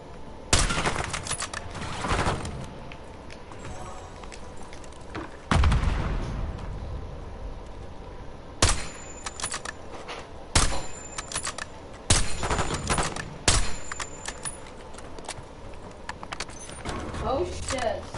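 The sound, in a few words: frag grenade and gunfire in Warzone video game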